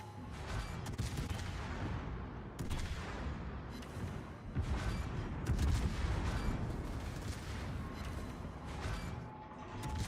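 Anti-aircraft guns firing from a cruiser in World of Warships, a dense, continuous barrage of rapid booming shots that rolls on without pause and rises in intensity midway through.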